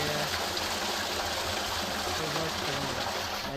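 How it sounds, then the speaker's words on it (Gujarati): Steady rushing water pours continuously into a tank, a dense even splashing flow with no pauses. "અહીંયા પાણી ચાલુ છે"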